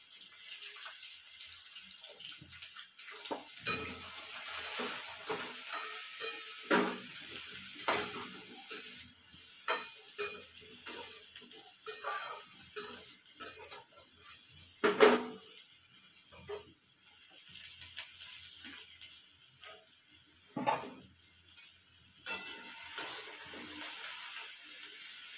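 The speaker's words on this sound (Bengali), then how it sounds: "আলু সয়াবিন পটল একসাথে ভেজে নিচ্ছে" Potatoes, soya chunks and pointed gourd fry together with salt and turmeric, a faint, soft sizzle broken by frequent sharp scrapes and clinks of stirring spread across the clip.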